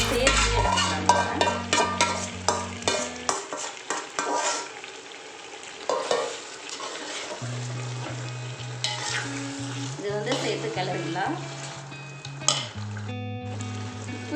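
Chicken is stirred into a sizzling gravy in a pan for a Ramzan special recipe, with steady frying hiss, repeated spatula scrapes and clinks against the metal, and a low hum in the background throughout.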